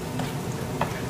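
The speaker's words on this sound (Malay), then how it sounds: "Sekejap, saya fokus masak nasi goreng ni" Steady sizzling of fried rice frying in a hot pan, with a couple of brief scraping stirs, fairly close and continuous throughout.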